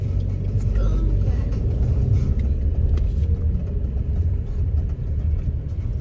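A car's engine starts and runs with a steady low rumble during a first-day driving lesson, people talking over it throughout.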